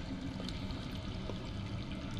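Underground water flowing in a Game of Thrones adventure game, a constant low rushing pour, muffled and steady for the whole short stretch.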